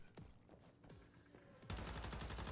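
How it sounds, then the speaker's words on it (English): Rapid automatic machine-gun fire in the survival shooter Once Human, preceded by a few scattered shots and then a loud, continuous burst that dominates the final second. "Gosh, I love machine guns."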